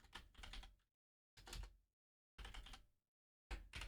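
Typing on a computer keyboard in short bursts of rapid key clicks, four separate runs broken by brief silent pauses, close and fairly quiet.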